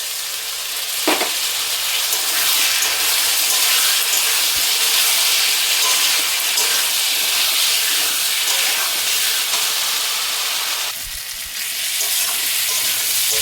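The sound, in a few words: water added to cooking potato curry in hot pan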